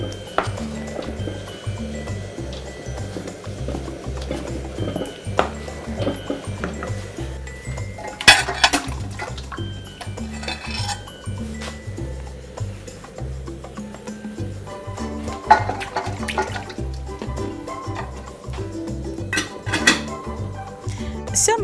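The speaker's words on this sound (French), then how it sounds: "il faut bien remuer pour éviter qu'il y ait des grumeaux" A thickening Bloloba mixture is stirred steadily in a pot, the spoon scraping and clinking against the sides in irregular knocks over a low murmur, with a few sharper metallic taps standing out.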